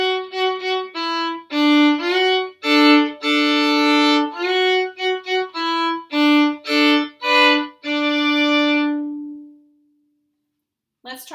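A bowed fiddle plays the second line of a Cripple Creek variation, with crisp, clear notes and double stops in a lively bouncing rhythm, solo and close, ending on a sustained note that fades into silence.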